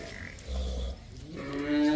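A deep, short bellow from a buffalo nearby, followed by a rising, tonal lowing call, with no talking.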